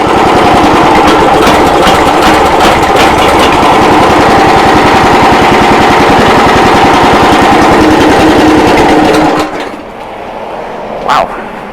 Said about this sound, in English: that started without the choke on